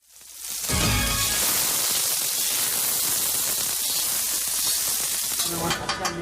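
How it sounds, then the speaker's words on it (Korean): Oil tteokbokki sizzles loudly in hot oil on a griddle at Tongin Market, a dense crackling hiss that swells in and stays steady, close up with no speech. "생김새에 소리까지 모두 생소한 기름 떡볶이"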